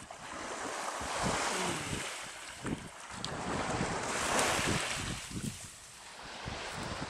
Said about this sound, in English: The tide's coming up.